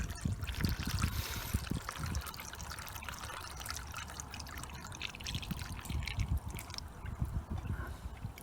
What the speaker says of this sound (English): Now I'm just going to fill it up with the fresh tap water.